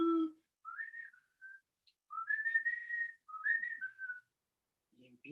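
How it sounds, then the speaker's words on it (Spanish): A flute plays a short series of bright, breathy melodic phrases, alone and fairly near, with brief pauses between the notes and a snippet of speech at the very end. "La flauta suena así."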